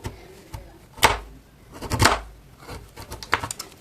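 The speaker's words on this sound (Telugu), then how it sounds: "జామకాయ అంతా కూడా నీట్గా కట్ చేయండి" Knife cutting raw or ripe guava into small pieces, giving sharp separate chops near the mic, about five strokes spaced irregularly with quiet pauses between them.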